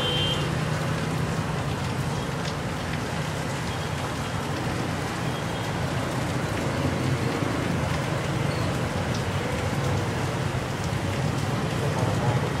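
Steady rain falls and patters on surfaces at an outdoor durian stall in Vietnam, a continuous, moderately loud hiss with faint background activity.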